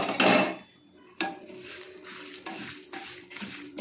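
Sesame seeds roasting in a pan for gongura chutney, stirred with a utensil, giving scraping and rattling strokes with short pauses and no talking.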